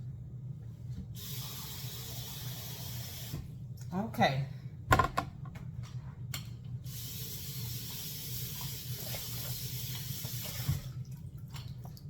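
Tap water runs steadily into a cooking pot for candied yams, a broad hiss with a brief splashy burst midway, while a person speaks a word nearby.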